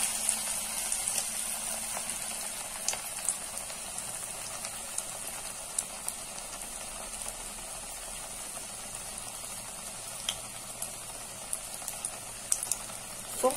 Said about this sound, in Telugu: ఇప్పుడు ఆయిల్ హీట్ అయ్యింది వేసేసుకుందాం